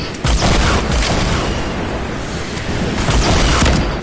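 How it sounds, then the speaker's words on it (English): Booming grenade explosions in a video game, heavy and loud, with rumbling low-end blasts layered over one another for several seconds and no voices. "Grenades."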